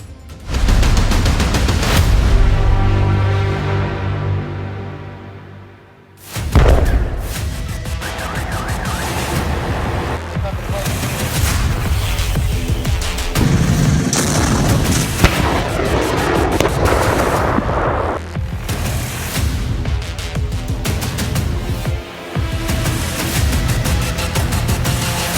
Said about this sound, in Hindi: ये रूस के बम वर्षकों के बारूदी ट्रेलर हैं।